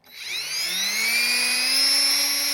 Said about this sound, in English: here we are again drilling the light to the beams